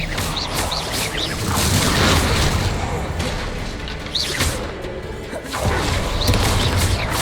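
Explosive combat spells in Hogwarts Legacy, loud booming blasts and whooshing impacts that repeat in quick succession, with crashes rising out of a busy battle din.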